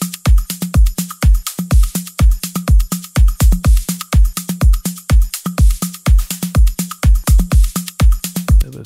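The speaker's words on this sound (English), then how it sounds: "Fairly straightforward, with a 4-to-the-floor kick." Trance track drum loop with a steady four-to-the-floor kick, punchy evenly spaced thumps driving a fast, insistent pulse with crisp hits between them, loud and up front, no voices.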